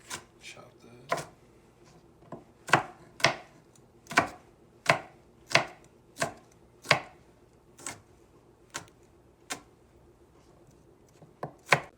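Knife chopping an onion on a cutting board while making guacamole, a steady series of about sixteen sharp, close chops with brief pauses between them, no talking over it.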